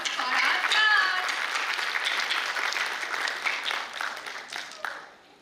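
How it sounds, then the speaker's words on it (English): Applause from the audience at a school annual function rises quickly and holds steady, then fades, with a few children's voices and calls scattered through the clapping. "So give a huge round of applause for our flowers."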